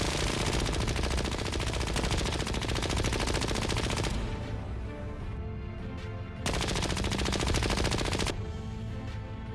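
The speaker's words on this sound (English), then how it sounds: "Shots were repeatedly aimed at the creature, but it didn't seem to have much effect." Sustained machine-gun fire from a science-fiction war scene against an armoured alien creature, loud dense bursts that pause briefly near the middle and then resume with full intensity before easing off.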